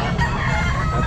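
A spread-comb rooster crows at a busy pet market, its loud, sustained call filling the whole moment over a dense crowd murmur and the clucking of other fowl nearby.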